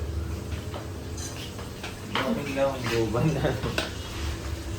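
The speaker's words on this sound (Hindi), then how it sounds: "भैया बना रहे मिक्स वेज, है ना भैया? आलू मटर गाजर।" Potatoes, peas and carrots stir-fried for a mixed-vegetable dish in a cafe kitchen, with a constant sizzle, soft scraping and metal clinks of a utensil against the pan, busier in the middle, under a faint background murmur.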